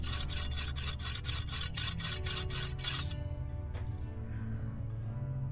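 A curved blade is sharpened on a grindstone in the video game Anna, giving a steady run of rhythmic scraping strokes for about three seconds before it stops and leaves a quiet ambient hum.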